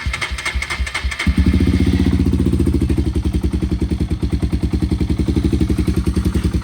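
A Suzuki Djebel 200 motorcycle engine is started cold: a few seconds of faint clatter, then the engine catches at once and settles into a loud, steady, throbbing idle close by.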